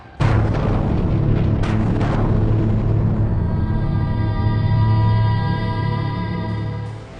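A deep explosion booms for the second blast in a Mumbai bombing, with a sharp onset followed by a long, loud rumbling roar and a sustained droning tail that fades toward the end, no voices.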